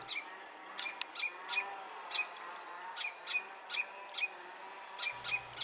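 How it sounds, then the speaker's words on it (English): A male ruby-crowned kinglet calls at blue jays. Thin, high chirps repeat at a steady, quick rhythm. The calls are faint against a quiet outdoor background. "a male ruby crown kinglet made sure to let the jays know that it was annoyed"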